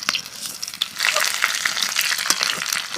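Bay leaf, dried chilli, black cumin, five-spice and slit green chilli frying in hot oil for a Bengali mung dal dish, a bright crackling sizzle that swells after a second and keeps popping steadily, close and alone.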